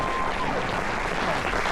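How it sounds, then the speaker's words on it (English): A crowd at a military appreciation carnival on a cruise ship applauds steadily, a dense wash of clapping from many hands throughout the brief moment. "Big round of applause, everyone."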